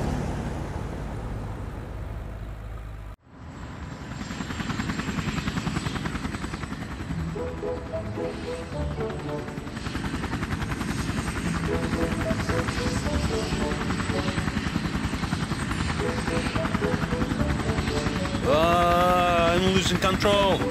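A cartoon helicopter flies and loses control, its steady rotor and engine drone running loud throughout under other animated sound effects, with a rising whistling tone near the end.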